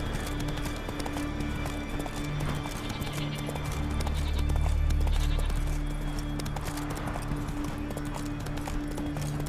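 Hooves of the horse Roach beat in a steady clip-clop gallop in The Witcher 3 video game, continuous and close over a low rumbling game backdrop.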